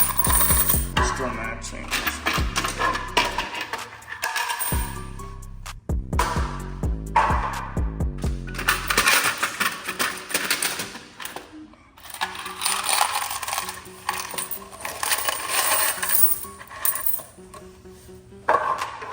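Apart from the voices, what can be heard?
coins clinking out of a vending machine coin box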